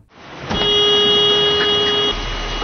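A car horn in a yakuza film blares in one sustained, steady honk for about a second and a half, loud and close against a quiet background.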